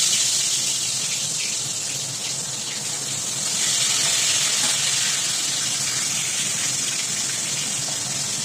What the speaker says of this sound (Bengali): নুন হলুদ মাখিয়ে তারপর আপনারা মাছগুলোকে ভাজবেন।